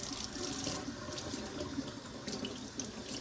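Running water from a tap streams steadily as it is used to wet a young animal for its first bath, a continuous hiss with small splashes near the source.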